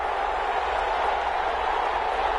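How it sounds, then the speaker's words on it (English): A stadium crowd in an American football video game on PS4 claps and cheers in a dense, steady roar of applause that holds evenly throughout, with no break. "How about some applause for the defense there?"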